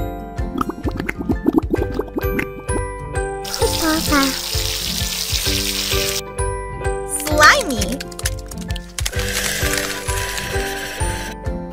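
Shower water running in a kids' video game about a newborn unicorn kitten, a bright hissing spray rising abruptly and holding steadily for a few seconds amid tinkling game chimes and cheerful music.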